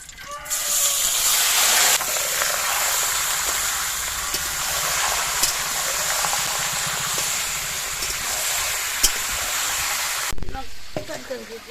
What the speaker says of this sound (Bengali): এবার ম্যারিনেট করা মাংস দিয়ে দেবো।